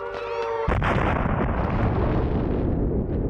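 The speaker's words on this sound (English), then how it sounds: "As the Cold War arms race intensifies in the mid-50s, both sides test ever more powerful nuclear weapons." Cold War nuclear weapon test explosion from the mid-1950s: a brief tonal passage gives way to a sudden, massive, deep roaring rumble that sustains loudly to the end.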